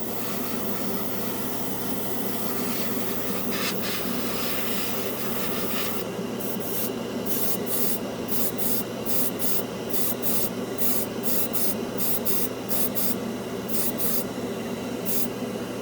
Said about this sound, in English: I'm airbrushing at, let me look,